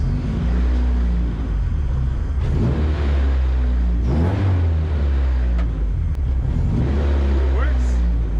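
The engine of a Honda Civic EG track car, just fitted with a new engine harness and injectors, revs on its first startup. Loud, close bursts of throttle rise and fall over a steady idle, with a voice briefly heard.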